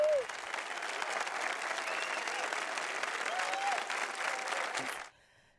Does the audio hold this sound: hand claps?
yes